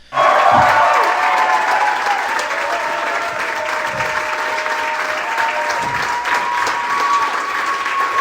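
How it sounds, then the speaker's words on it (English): Recorded applause after a live show, loud sustained clapping and some cheering from a crowd in a room, steady for several seconds. "Here is the applause."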